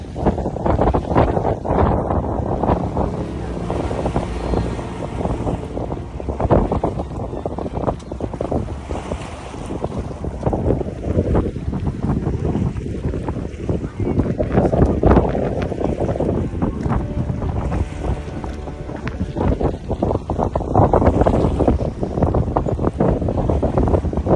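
A canal tour boat cruises through Nyhavn in Copenhagen, its steady engine drone and water wash mixed with heavy, continuous wind buffeting the microphone; no voices.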